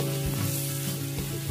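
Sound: garlic frying in annatto oil

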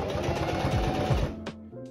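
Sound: sewing machine stitching bias tape onto a bag

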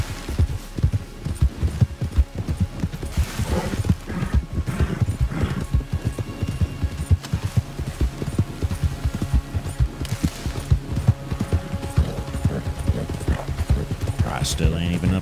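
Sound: horses trotting and neighing in video game Red Dead Redemption 2

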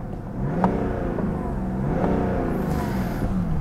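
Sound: BMW 7 Series inline-six diesel engine revving

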